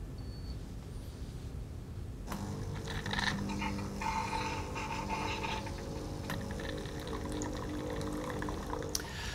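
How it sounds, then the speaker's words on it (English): A Lavazza LB2317 capsule coffee machine purges its cappuccino milk unit with hot water, a sudden hiss and steady splashing rinse starting after a quiet moment and running on at moderate level. "What this will do is it will purge the cappuccino torre unit with hot water, giving it a light rinse."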